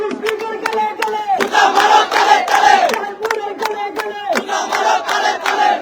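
Protesters at a road blockade on a bypass road in Patiya, Bangladesh, with tyres burning, chanting slogans together in a loud, rhythmic call-and-response, sharp claps or beats punctuating the crowd's rising voices.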